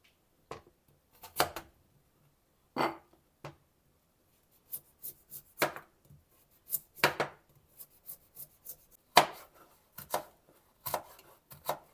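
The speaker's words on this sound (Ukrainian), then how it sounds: "І також морку зараз буду нарізати ось такими смужками." Sharp knife chops strike a board in irregular bursts as carrots are cut into strips, close and fairly quiet, with short pauses between the cuts.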